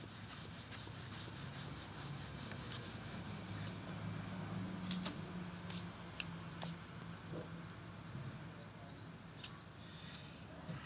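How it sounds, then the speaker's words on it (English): A rag soaked with acetone is scrubbed vigorously across a water-based conversion-coated test panel, giving a steady, continuous close rubbing sound with a few faint clicks, no talking. "he flooded the rag with acetone and it's got completely wet. And he's scrubbing it vigorously."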